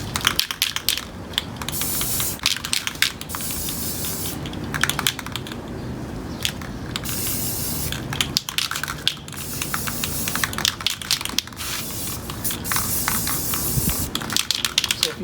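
Aerosol spray paint hissing onto a plastic Nuby step stool in repeated bursts of several seconds each, with short pauses between passes.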